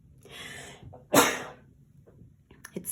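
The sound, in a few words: sneeze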